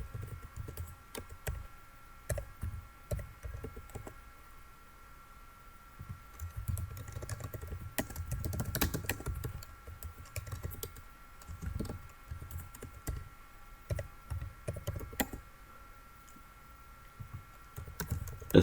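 Router commands for a CCNA static routing exercise are typed on a computer keyboard: bursts of close, quick key clicks with short pauses, steady and fairly loud, no talking.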